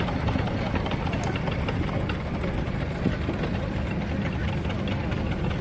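A part-built miniature steam traction engine, generator mounted on the front and no canopy yet, rumbles steadily past in a steam rally parade, a continuous heavy chugging engine noise with crowd sounds mixed in.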